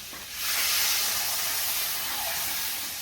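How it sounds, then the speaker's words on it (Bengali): Water poured into a hot pan of frying vegetables while cooking paneer in a village kitchen, giving a loud sustained sizzling hiss that swells quickly and holds steady for a few seconds. "আমি কিন্তু এখন জল দিয়ে দিচ্ছি,"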